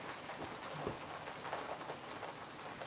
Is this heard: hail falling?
yes